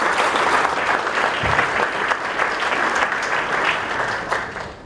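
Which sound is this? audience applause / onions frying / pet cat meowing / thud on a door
audience applause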